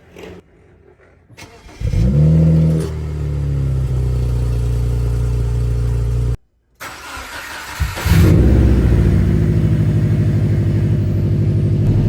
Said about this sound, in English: Then I'll give you guys a startup clip of the BMW real quick